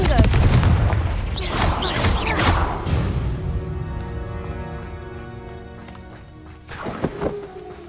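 Confringo explosive spell cast in Hogwarts Legacy on PC: a burst of loud, heavy booming blasts in the first few seconds, then a fading ringing tail and a smaller crackling hit near the end.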